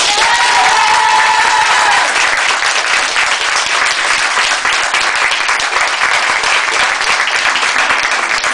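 Sustained applause from an audience at a live reading with music in a Fnac store in Strasbourg, dense and steady clapping filling the whole stretch, with a brief whistle-like tone early on and no speech over it.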